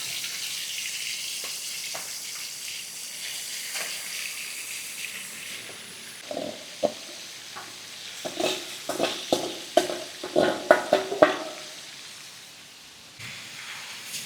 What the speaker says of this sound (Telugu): ఇప్పుడు అదే గోరువెచ్చని ఆయిల్లో మనం చికెన్ వేసేద్దాం.